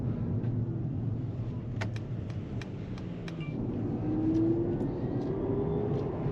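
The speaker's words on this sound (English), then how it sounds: "It's got that electric sound like a Porsche Taycan, and it's really smooth to drive around." A Mercedes-AMG GT63S E-Performance rolling in electric mode, a smooth low hum with a rising synthetic whine heard from inside the cabin, plus a few faint clicks and no talk.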